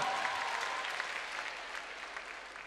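Concert-hall applause for an evening of songs: a brief, continuous burst of many hands clapping, fairly soft and slowly tapering off.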